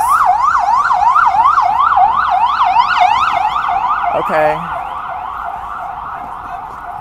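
An ambulance siren wails loudly on a city street in New York, its rising and falling tone cycling steadily before cutting off abruptly near the end, with a brief spoken word over it.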